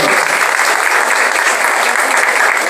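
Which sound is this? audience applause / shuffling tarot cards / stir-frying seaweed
audience applause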